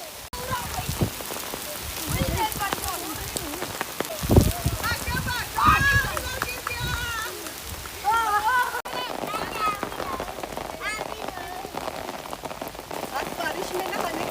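Heavy rain pours steadily onto surfaces in a village, a dense continuous patter with people talking over it throughout.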